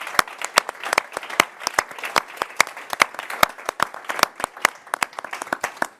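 Live audience clapping for exhibition curators at an artist talk on the Congo Panorama 1913, dense sharp handclaps in an irregular burst lasting several seconds, close and fairly loud, with no voices over it.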